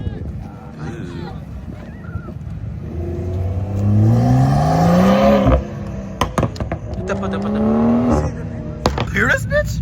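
A big-block car engine revs at a Delray car meet, with repeated rising and falling roars close by and sharp pops, while people talk and shout over it.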